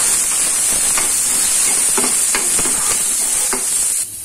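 Onions, garlic, green chilies and cumin fry in hot oil with a loud, close, continuous sizzle, punctuated by soft stirring scrapes, before the hiss drops off abruptly at the end.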